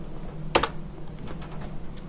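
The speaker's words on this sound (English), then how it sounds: "we can type the password in or copy and paste the password." A computer keyboard gives a single sharp clack followed by a few soft, scattered keystrokes as a password is entered, close and quiet in a still room.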